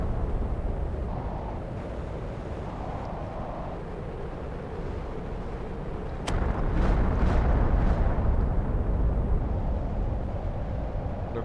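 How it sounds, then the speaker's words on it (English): Meteorite storm explosions on Mars in a terraforming game: a steady low rumbling roar that swells louder midway, with a sharp crack and a few distant booms, no voices. "Looks like just a regular meteorite storm."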